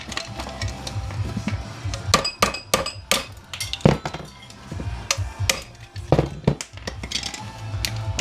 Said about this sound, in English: Let's just see how quickly I can bash these apart.